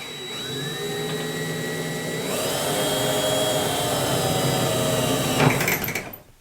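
An electric drill bores a small pilot hole during a single-tap kegerator build, a steady whining motor whose pitch climbs partway through, then winds down and stops at the end.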